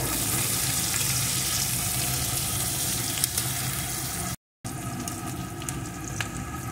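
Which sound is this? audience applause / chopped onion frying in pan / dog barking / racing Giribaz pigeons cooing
chopped onion frying in pan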